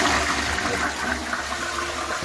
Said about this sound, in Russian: Смыл я унитаз раз.